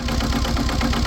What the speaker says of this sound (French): C'est un moteur Kubota 2 cylindres en ligne